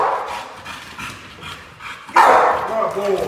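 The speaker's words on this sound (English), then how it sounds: "keep barking at the individual until the police can get there" An American bully dog in protection training barks and yips in short bursts, with a loud bark near the end and a voice speaking over the dog.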